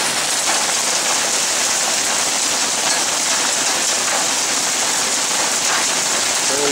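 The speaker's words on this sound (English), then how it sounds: "bit of a hailstorm going on." Hailstorm pounding down outdoors in Bend, a loud dense steady hiss of falling ice and water on surfaces, unbroken and close throughout.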